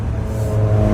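Self-driving car moving with nobody in the driver's seat, a steady close engine and road hum with a faint rising whir, heard alone for a brief moment.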